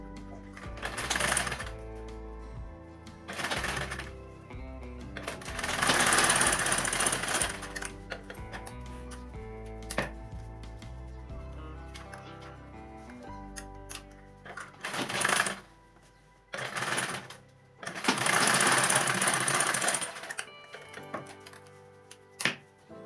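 Bursts of sewing machine stitching on a shoulder bag lining seam, several close, loud runs of varying length separated by pauses with small handling clicks.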